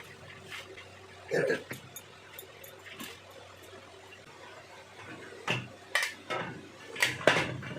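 Dishes and utensils clatter in a home kitchen while roti dough is kneaded, with scattered sharp clinks and knocks, a cluster near the start and several more toward the end over a quiet background.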